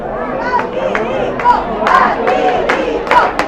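A crowd of football fans roaring and shouting at an equalising goal in a Sicilian Coppa Italia Eccellenza match between Partinicaudace and Montelepre, loud and sustained with scattered yells and whistles.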